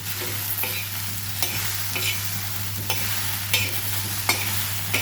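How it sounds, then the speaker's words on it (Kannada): Okra frying for a Kannada-style ladies finger bhaji is stirred in a pan, a constant loud sizzle broken every second or so by the scrape of a spatula, close up with no voices. "ಹುರಿಯುವಾಗ ಟೈಮ್ ತಗೋತದೆ ಹಾಗೆ ನೀವು ಸ್ವಲ್ಪ ಒಂದು ರೌಂಡ್ ತಿರುವಿಟ್ಟು"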